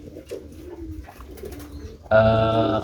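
Pigeons coo in a loft, a steady layered cooing that swells loudly near the end after quieter, murmuring bird sounds.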